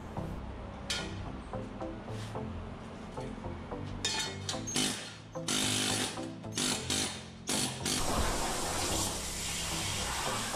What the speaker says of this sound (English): Knock the slag off the edge of the part.